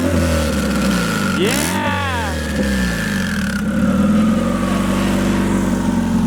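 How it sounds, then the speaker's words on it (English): A car engine fitted with an eBay turbo revs close and loud, rising and falling through a sweeping rev and then settling into a steady drone, with a brief voice over it. "rev it a little bit though?"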